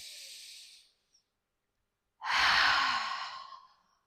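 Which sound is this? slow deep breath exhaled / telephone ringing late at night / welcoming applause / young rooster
slow deep breath exhaled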